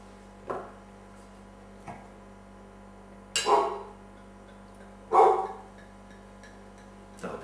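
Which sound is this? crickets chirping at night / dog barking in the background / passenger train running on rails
dog barking in the background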